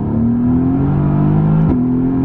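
A Mercedes-AMG GT R sports car accelerates with a loud, continuous engine drone whose pitch climbs steadily, heard up close with no talking.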